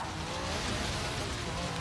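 Ford Lotus Cortina rat rod build in Forza Horizon 3 revving hard toward redline, a loud, steady, dense engine roar that stays constant without a break.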